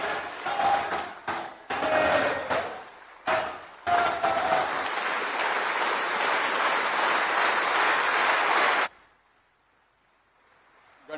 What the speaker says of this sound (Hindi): तालियों की गड़गड़ाहट से यहां पर प्रधानमंत्री नरेंद्र मोदी का स्वागत संसद भवन में